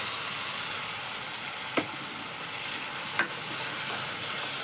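Tomato puree sautéed with spice masala in a pan, a steady soft sizzle throughout with two brief scrapes of a spoon against the pan, no voices.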